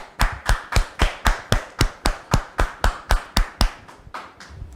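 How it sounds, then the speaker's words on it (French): A studio audience clapping in unison to welcome a guest onto a French talk show: loud, regular claps about three per second that fade and loosen toward the end. "On la reçoit sous vos applaudissements."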